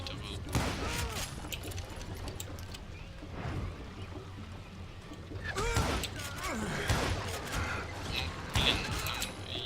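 Gunfire in the western shooter game Call of Juarez: Gunslinger, with several sharp shots scattered across a quiet game soundscape while someone talks over the action.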